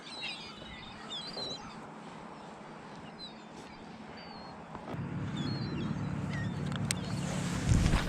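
Seabirds call faintly and intermittently over open water during hybrid striped bass fishing from a boat, their scattered high cries sitting above a steady low engine and water rumble that grows louder toward the end.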